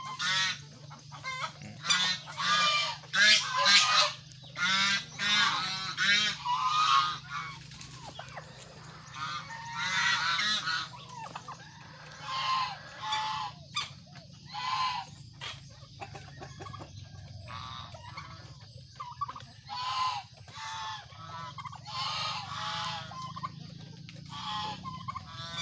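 A hen turkey and a flock of chickens call in loud, repeated gobbling bursts and clucks, some overlapping, against a steady low hum, with no talking.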